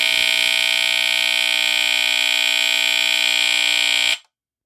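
A Jameson Code One CD-2 smoke detector under test gives one loud, continuous, piercing electronic alarm tone at close range. It holds steady for about four seconds and then stops abruptly into silence.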